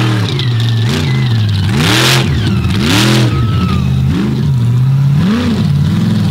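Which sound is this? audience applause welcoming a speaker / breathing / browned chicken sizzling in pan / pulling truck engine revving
pulling truck engine revving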